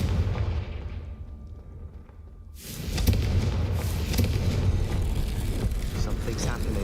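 Confringo blasting spell from Hogwarts Legacy erupting into a loud, sustained rumbling blast after a brief quieter lull, with low booming energy rolling on for several seconds.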